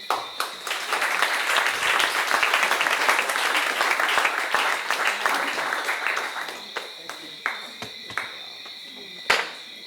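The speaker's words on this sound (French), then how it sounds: "je vous demande de l'applaudir" An audience at a commemorative tribute event in Goyave breaks into sustained applause that swells, holds, and then thins into scattered individual claps, with some talking underneath.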